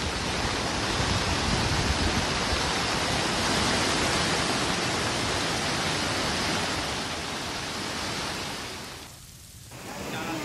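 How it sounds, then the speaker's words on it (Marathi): Water of the flooded Vashishti river in Chiplun rushes in a dense, loud, continuous roar, dipping briefly near the end before surging back. "वशिष्ठी नदीला पूर आलाय"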